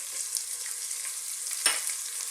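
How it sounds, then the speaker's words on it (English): Chopped onion and garlic fry in a pan, making a steady, moderately quiet sizzle with a single sharp stirring scrape near the end and no talking. "Then I'm going to go in with our chopped onion, the garlic"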